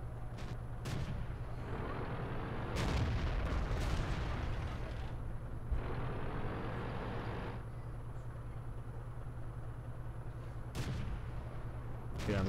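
Tank cannon fire in World of Tanks, a Comet tank battle: several sharp booming shots at intervals over a steady low engine rumble, with a long rolling blast in the middle and a final crack near the end.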